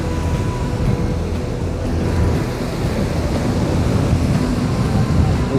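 Waves washing at the shore during a fishing session, a loud continuous surf roar with wind buffeting, no pauses.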